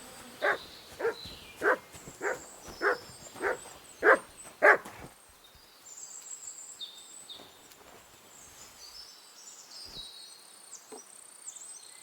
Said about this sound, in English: Is that my dog?